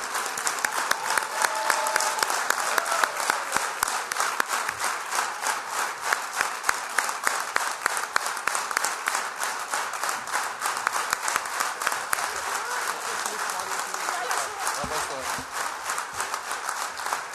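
Sustained applause fills a party convention hall, with dense clapping from a large crowd continuing throughout at a steady level and a voice speaking faintly over it.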